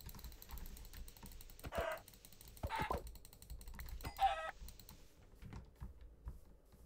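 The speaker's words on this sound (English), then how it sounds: "A chicken." A Minecraft chicken gives a few short, scattered clucks, faint under a steady patter of computer keyboard typing, with quiet gaps between the calls.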